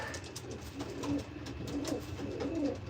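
Racing pigeons in a loft coo steadily in low, soft, overlapping calls, with several birds close by and no talk.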